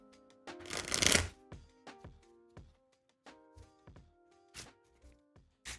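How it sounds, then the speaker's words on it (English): A deck of Jump Drive cards shuffled on a table: one dense riffle burst followed by a series of separate soft taps and thunks as the cards are squared and mixed, close and quiet. "It's a decent shuffle. Make sure I really get them all mixed up."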